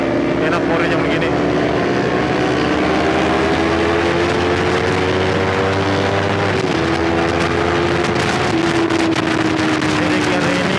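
A group of six motorcycles riding together gives a steady, loud engine drone whose pitch slowly rises and falls, with wind rush throughout and a rider talking over the noise.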